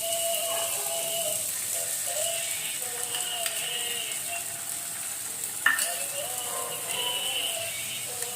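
Onions sizzling in a pan with ginger-chili paste and garlic paste, a steady bright hiss of frying broken by occasional scrapes and clinks of stirring, heard close with no talk.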